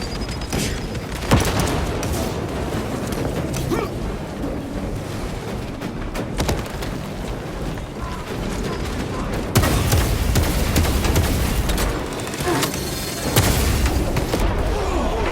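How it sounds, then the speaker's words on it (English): Jump grenade blasts in the Warhammer 40K Space Marine 2 video game, heavy booms and rumbling detonations layered over continuous battle noise and gunfire, with fresh bursts of explosion near the middle and end. "Deploying jump grenade."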